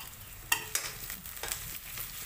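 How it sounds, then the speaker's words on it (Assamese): Onions frying in a pan for a home-cooked dish, a steady soft sizzle broken by a few sharp clatters of stirring, close and fairly quiet with no talk. "পিঁয়াজখিনি দি ভালদৰে ভাজি ল'ম।"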